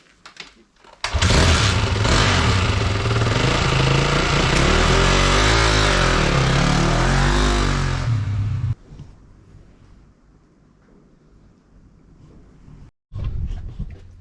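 A motorcycle engine runs loud and steady for several seconds, then cuts back to a low idle before a brief final burst.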